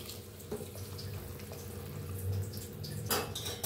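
Hot water pours into masale bhaat rice in a pressure cooker, a steady close gushing stream running continuously, with a couple of clinks of the vessel near the end.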